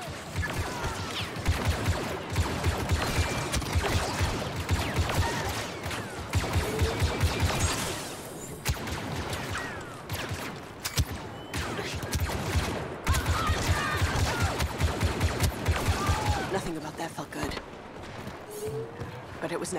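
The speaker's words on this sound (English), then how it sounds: "Blast it! Open fire!" Blaster fire rattles through a firefight in Star Wars Battlefront 2 as dense, rapid bursts keep going almost the whole way, with a short lull in the middle and voices speaking over the shooting.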